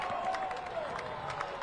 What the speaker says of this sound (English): It looks like our crowd is ramping up.